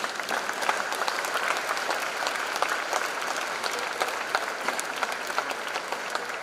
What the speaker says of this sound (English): Give a big applause to your parents for that sacrifice.